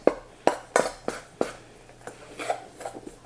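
A utensil clinks and scrapes against a bowl while lemon icing is mixed, giving a series of sharp, close taps at irregular intervals, with no talking.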